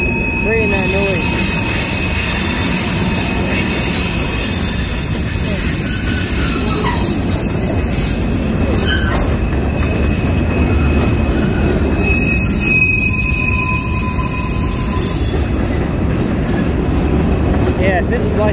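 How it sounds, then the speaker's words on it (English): Wheel flanges of a train grind against the rail near Nashville, Tennessee, producing loud, sustained high-pitched squeals that rise and fade over a constant rolling rumble, close by, with a voice speaking briefly. "The flange is rubbing against the wheel, the rail, creating that noise."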